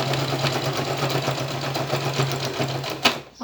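A sewing machine runs fast and steadily as it stitches seams on a fabric hat, a close mechanical hum with a rapid needle rhythm, broken by a short knock near the end and then a brief stop.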